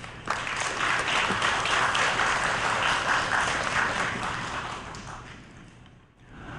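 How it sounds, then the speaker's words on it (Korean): Applause from an audience at an academic symposium on East Asian society and the Catholic Church, welcoming a sociology professor and Jesuit priest to the podium; steady dense clapping that fades toward the end. "김우선 신부님을 큰 박수로 맞이해 주십시오."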